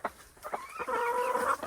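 A tame, docile chicken clucking close by, a few short clucks followed by a longer, rising, drawn-out call.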